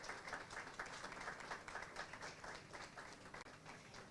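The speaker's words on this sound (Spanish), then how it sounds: "Te brindamos un caluroso aplauso y bienvenida a estos espacios." Warm applause from an audience greeting a guest at an online course session, a steady faint wash of many hands clapping throughout with no voices over it.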